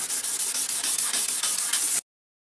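Hand wet sanding car paint with sanding film and water, a loud close rhythmic rasping of repeated strokes, about a dozen quick passes, then silence.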